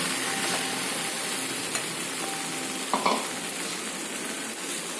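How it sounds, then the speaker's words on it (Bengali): Grated coconut is stirred into a sizzling banana flower dish (mochar ghonto) in a pan, giving a steady close frying hiss with a few sharp scrapes and clinks of the spoon, no talking. "নারকলটাকে আমি মেশাচ্ছি দেখো মোচার মধ্যে।"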